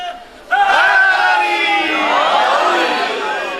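A large crowd at a religious gathering in Jhang shouts a slogan in unison, a loud sustained roar of voices that rises sharply and holds for several seconds before easing slightly.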